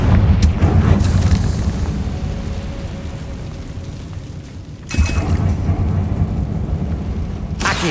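A Confringo spell explosion in Hogwarts Legacy: a loud booming blast up front that rumbles and slowly fades, then a second sharp burst of noise near the end, with no talk over it.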